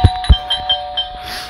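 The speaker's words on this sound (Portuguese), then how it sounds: "eu vou tocar a campainha pra ela não desistir" Doorbell in the horror game Scary Teacher, two sharp ding-dong chimes right up front followed by softer ringing tones fading out, alone and clear.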